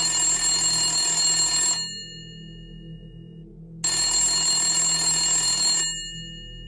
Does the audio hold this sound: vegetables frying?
no